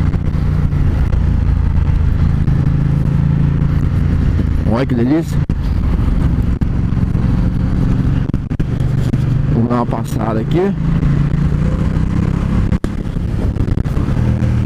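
A Ducati X Diavel motorcycle on a test ride hums with engine and wind noise, rising in a couple of revving surges, while a rider talks throughout.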